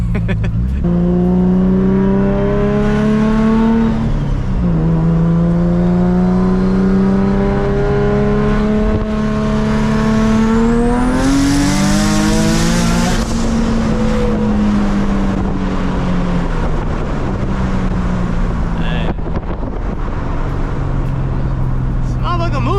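A boosted Nissan Z with a Tomei setup revs hard on a dyno toward 8000 RPM, a loud, close, sustained engine note climbing steadily in pitch, peaking, then dropping back and settling near idle.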